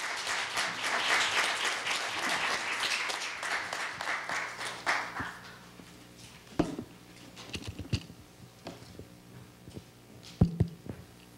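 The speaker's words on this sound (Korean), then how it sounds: "큰 박수 부탁드리겠습니다." Lecture audience at Korea University applauding to welcome a speaker, a lively burst of clapping for about five seconds that fades to a few scattered claps and handling noises.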